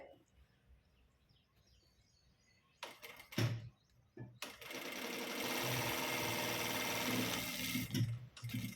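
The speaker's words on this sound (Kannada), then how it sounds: "ಅದ್ರ ಮೇಲೆ ನೀವು ಒಂದು ಸ್ಟಿಚ್ ಹಾಕಿದ್ರೆ" Electric sewing machine stitching blouse fabric: a short start-stop burst, then a steady whirring run of several seconds, close and loud.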